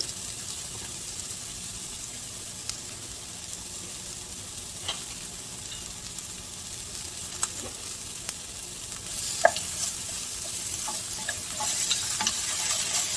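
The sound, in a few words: onions sautéing in a pan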